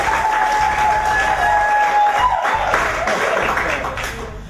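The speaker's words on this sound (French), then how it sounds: "Applaudissez une fois de plus pour vous, s'il vous plaît." Congregation applauding in a church, a dense wash of clapping with cheers and tonal sounds mixed in, fading toward the end.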